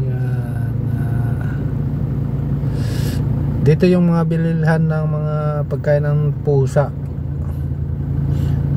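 Busy road traffic on C5 street in the city rumbles steadily in the background, a continuous low engine hum with passing vehicles, while someone talks close over it.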